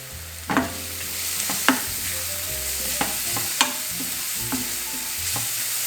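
Cumin and other spices frying in a pan, a soft continuous sizzle broken by a few louder stirring knocks and scrapes, close by with no talking.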